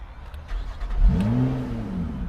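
A brand-new Lotus Evora 400 sports car with its sport exhaust engaged revs up, a loud, close engine roar rising after a second and holding strong to the end.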